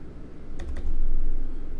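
A few quick computer mouse clicks sound in close succession, sharp and near, over a steady hum while someone works in a spreadsheet.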